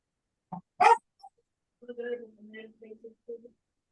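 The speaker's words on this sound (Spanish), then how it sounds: "Ahí me salió el perro ladrando" A dog barks once sharply, followed by a few softer whimpering yips, heard indoors at moderate distance.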